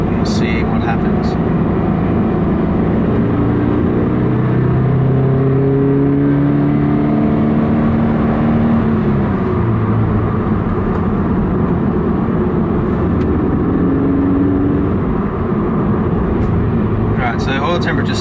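Subaru BRZ/86/FRS accelerating uphill under more throttle, a loud, sustained engine drone heard from inside the car with harmonics climbing through gear changes over about eighteen seconds.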